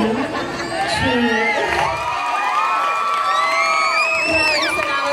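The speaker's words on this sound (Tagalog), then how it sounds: "Bakit di natin palakpakan, hiyawan at suportahan si Miss Kim Chi?" An audience at a gay pageant's national costume segment cheers loudly, with whoops, high shouts and yells rising over a dense crowd roar that stays steady from start to finish.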